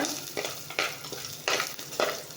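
Crushed garlic cloves sauté in a pan, a soft sizzle punctuated by four sharp stirring strokes at roughly even intervals.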